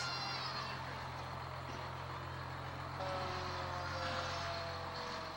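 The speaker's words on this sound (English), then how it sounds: "traditionally, the parade ends with Santa on the fire truck" Low, steady diesel rumble of a fire truck idling and rolling slowly at the end of a Santa parade, heard from a distance under faint outdoor crowd noise.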